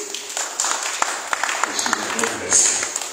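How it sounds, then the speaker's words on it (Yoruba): Scattered claps from a church congregation in Akure praising Jesus, sharp irregular hand claps mixed with a voice and crowd murmur. "Ẹ jẹ́ kí a pàtẹ́wọ́ fún Jésù."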